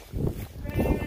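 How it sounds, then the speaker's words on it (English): A goat bleats once or twice in a farm livestock pen, the calls close and moderately loud against outdoor noise. "So that's the goat."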